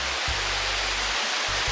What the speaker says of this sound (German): man sieht es im Hintergrund oder hört es, es regnet